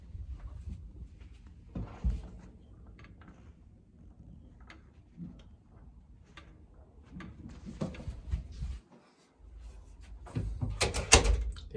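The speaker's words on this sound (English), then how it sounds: "let's see what delights are waiting outside the door" A quarantine hotel room door in Tokyo is opened: the latch and handle click and rattle, then the door moves with soft knocks and mechanical clunks, close by in a quiet room with little talk.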